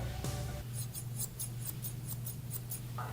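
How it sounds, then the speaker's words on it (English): Sharp straight scissors being opened and then snipped repeatedly in quick, evenly spaced crisp clicks, close up over a low steady hum. "I'm gonna open up the straight scissors."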